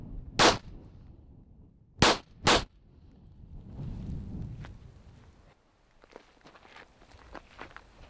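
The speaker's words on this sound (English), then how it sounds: "I'd prefer to shoot some of my older guns, like this Browning High Power" Sharp, loud gunshots from a Browning High Power pistol at a shooting range: a single crack, then a quick pair, followed by faint rustling and handling noise.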